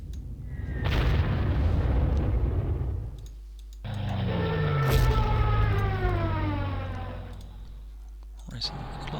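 Bombing explosions in the Panzer Corps war strategy game: two long, loud rumbling booms, the second sweeping with a siren-like falling whine, then a brief final burst.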